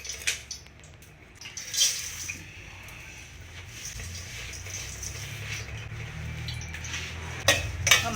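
Flattened rice (poha) frying in a little oil in a kadai: soft rustling and scraping under a low background hiss, with a few crisp metallic clinks of a spoon against the pan near the start and end.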